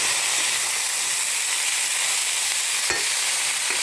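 Vanpayar beans being stirred into a sizzling mixture in a pan, a steady close frying hiss with scraping stir movements throughout and one brief sharp clack near the end.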